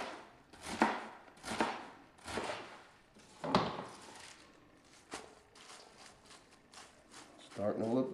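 A knife chops Caesar salad ingredients into bite-sized pieces on a cutting board, making a series of loud, close thuds at an irregular pace with short pauses between cuts.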